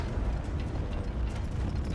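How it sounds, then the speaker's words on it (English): Rapid clip-clop of a horse troop's many hooves pounding together in Mount & Blade II: Bannerlord, a dense, steady rumble, loud and close, with no voices. "Quang Li, that's a horse troop."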